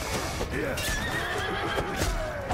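A horse neighs loudly in a Mount & Blade: Bannerlord battle, a long whinny with hoof clip-clops and someone talking over it.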